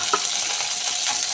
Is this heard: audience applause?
no